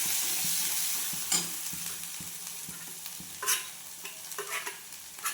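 Turmeric, chili powder and masala going into a hot pan and being stirred, a soft continuous sizzle broken by a few sharp scrapes and clinks of the spoon against the pan.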